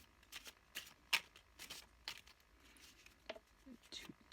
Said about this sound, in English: Two more shuffles, and then I'm going to draw from the top